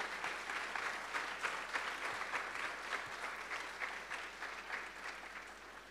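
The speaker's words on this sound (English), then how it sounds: "Let's clap our hands." A church congregation at a Sunday service claps their hands together in a steady, rhythmic beat. The clapping is moderately loud and continues throughout.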